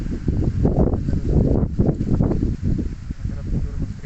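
Strong wind blows across a steep mountainside along the fault line in the Ilocos region, a loud, continuous gusty roar buffeting the microphone with no pauses.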